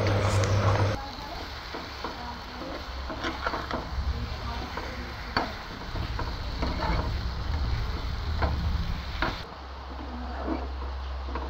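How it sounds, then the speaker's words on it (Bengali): Marinated lote fish is tipped into a hot pan and gently stirred, giving a steady sizzle with soft scraping and stirring clatter; a voice talks over part of it. "এবার সেই ম্যারিনেট করে রাখা মাছগুলো দিয়ে একটু আলতো হাতে নাড়িয়ে ঢেকে রাখতে হবে কিছুক্ষণ।"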